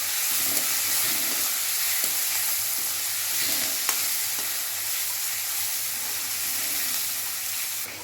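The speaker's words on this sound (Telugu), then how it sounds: "ఆ పేస్ట్ని యాడ్ చేసుకోవాలి. అది కూడా వేసి బాగా వేగనివ్వాలి" Spice paste of cumin and fresh coconut frying in jackfruit curry in a pan, a loud, steady close-up sizzle with soft stirring scrapes running throughout.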